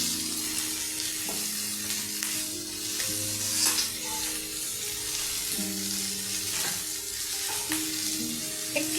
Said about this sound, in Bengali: তো এইভাবে আমি এখন একটু ভাজা ভাজা করবো।